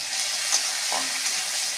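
Crushed garlic hits hot oil for a jackfruit cutlet and sizzles loudly and steadily up close, with a brief stir partway through and no talking.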